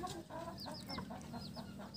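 A free-range village hen clucks softly and repeatedly while foraging, her small chicks cheeping in high, rapid peeps close by.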